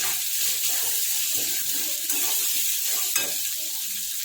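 Chopped capsicum and onion sauté in a pan for a stuffed flatbread filling, with a continuous soft sizzle and light stirring scrapes close by, without speech.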